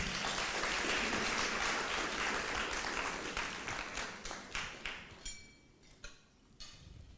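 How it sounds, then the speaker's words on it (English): Audience of Kenyans living in Italy applauding at a meeting with Deputy President Gachagua, loud sustained clapping that thins out into scattered individual claps before fading. "you guys deserve a round of applause for that"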